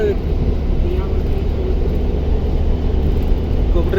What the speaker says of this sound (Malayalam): ഹെലികോപ്റ്റർ വരുന്നുണ്ട്,